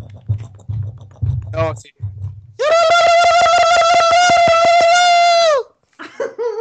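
A voice imitates shutters closing with a sustained, buzzy tonal drone lasting about three seconds. Speech comes before it and after it.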